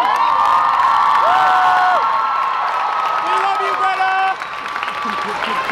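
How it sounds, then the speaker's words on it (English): A large outdoor crowd at a climate strike rally in New York cheers and shouts, with whoops and a sustained roar that fades slightly toward the end; voices ring out over the crowd noise. "We'll give them an applause."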